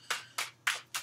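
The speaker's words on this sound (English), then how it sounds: "let's keep shuffling" Four quick soft riffling bursts of tarot cards being shuffled, evenly spaced, close and quiet.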